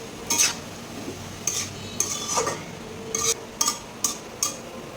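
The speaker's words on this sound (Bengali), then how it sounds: "ফার্স্ট ফোড়ন দিয়ে লাল শাক ফোড়ন দিলাম" Red amaranth greens with green chillies are stirred in a pan of tempered spices, a faint sizzle under about eight distinct metallic scrapes and clinks of a spoon against the pan at an uneven pace.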